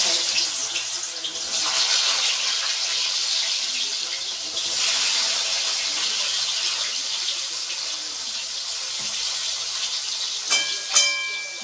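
Potato pieces fry in hot oil for a fasting bhagar khichdi, giving a steady, moderately loud sizzling hiss that swells and eases, with a couple of sharp crackles near the end.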